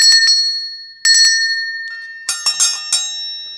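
A vintage French bell with a crack in it is struck several times, bright ringing clangs in two quick groups with decaying metallic tones, loud and close, with no talk.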